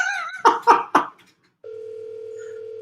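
A telephone goes off-hook and a steady dial tone sounds, preceded by a few short dialing or key sounds, close and clear with no talk over it.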